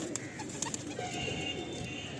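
Malwai pigeons coo softly in a loft, low throaty calls repeating under a busy background of rustling and faint bird chatter, fairly quiet and close.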